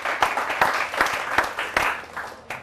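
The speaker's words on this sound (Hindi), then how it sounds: "एक बार जोरदार तालियां हो कमल आग्ने" An audience at a poetry gathering celebrating Azadi Ka Amrit Mahotsav claps for the poet Kamal Agney, a fairly close, steady applause with sharp individual claps standing out in a loose rhythm.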